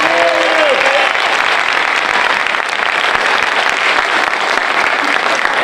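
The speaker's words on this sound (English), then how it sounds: "graduates a big round of applause." Loud, sustained applause from the audience at a high school fire science cadet graduation held by a Fire/EMS department, dense clapping from a crowd with a brief vocal murmur at the start.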